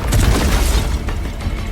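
A gun fires with a heavy explosive boom in the video game Horizon Forbidden West, one loud low blast that rumbles and fades over a couple of seconds.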